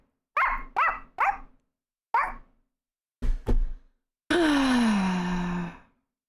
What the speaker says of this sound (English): We hear the barking every time a Hanako walks on screen.